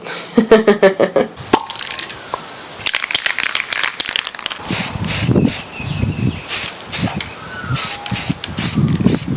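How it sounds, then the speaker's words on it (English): Rattling of a shaken spray paint can first, then repeated short hissing bursts of spray paint at close range outdoors onto a small plastic baby bath, with some handling noise between. "We're going to take this outside with our spray paint, turn it face down and give it a spray."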